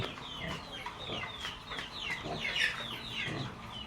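Hens cluck repeatedly in a busy farmyard chorus, several birds overlapping at moderate distance with steady background noise.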